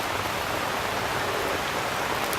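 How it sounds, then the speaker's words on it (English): Light rain falls outdoors over a street and driveway, a steady, even hiss of drops with no voices. "It's starting to rain slightly now."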